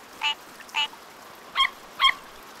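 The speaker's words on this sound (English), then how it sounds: "This frog sounds like a duck" Four short nasal, duck-like calls from a frog, coming in two pairs with brief pauses between them, fairly close and clear against a quiet background.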